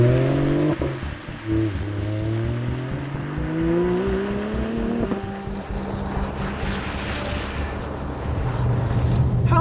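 A Volvo S60 Polestar's transversely mounted V6, over 500 horsepower, revs hard and accelerates, its pitch climbing steadily through the gears with a throaty roar, then fading into road and wind noise.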